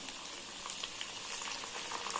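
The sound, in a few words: curry leaves added to frying chicken on low flame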